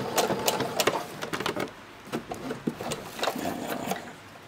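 Sewing machine stitching lace onto frilly ankle socks, heard as bursts of rapid mechanical stitching that start and stop in short runs, fairly close and alone with no talking.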